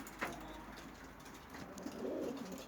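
Pigeons coo softly in a loft, a faint low burble swelling near the end amid quiet background noise.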